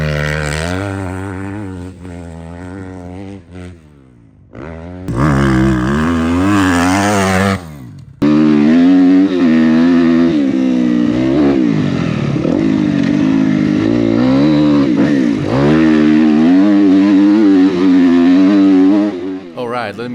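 Motocross bike ridden hard around a backyard dirt track, engine revving and climbing through gears loud and close, with a brief cut to quieter idle before full-throttle riding resumes.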